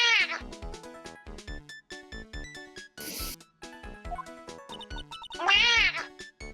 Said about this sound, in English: She's doing the most tiny little meows.